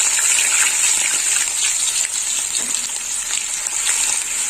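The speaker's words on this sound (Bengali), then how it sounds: "পেঁয়াজ বাটাটা একটু লাল লাল করে ভাজা হবে।" A spoonful of onion paste fries in hot oil over a spice tempering, making a loud, dense, continuous sizzle with a faint bubbling texture and no voices.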